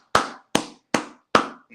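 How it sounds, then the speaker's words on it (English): Five crisp hand claps land at a slow, even pace, each a sharp close smack with a short decay, alone against silence. "That deserves some claps there for that pun right there"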